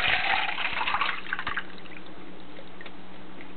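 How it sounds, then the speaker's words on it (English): Water from a full cup is poured into a second cup, a close trickling splash that fades into light drips and then near quiet. "So, if you pour it into here"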